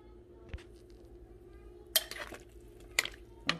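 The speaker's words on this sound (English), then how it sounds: "we're gonna stir it up a little bit so we can go ahead and make the gravy" A spoon stirs curry chicken drumsticks in a crock pot, giving a few scattered scrapes and clinks against the pot over a low background hum, with no voices.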